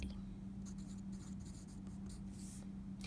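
Pencil scratching words onto a paper worksheet at close range, soft irregular strokes over a steady low electrical hum.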